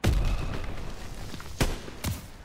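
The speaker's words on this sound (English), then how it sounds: "Gunfire! You must be near our guys." Two loud, booming video game gunshots in a World War II mission, about half a second apart, ring out after a low rumble, close and punchy.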